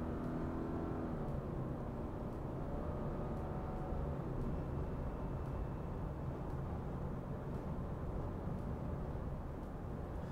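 Inside a 2024 Subaru Crosstrek Wilderness at highway speed, a steady, even rumble of road and engine noise fills the cabin without a break, with a faint whir riding on top.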